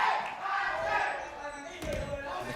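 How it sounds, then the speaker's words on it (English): A crowd chants during a Valorant esports match in the VCT Ascension Pacific group stage, a steady roar of many voices with a thud near the end and no clear commentary. "The crowd is chanting fancy."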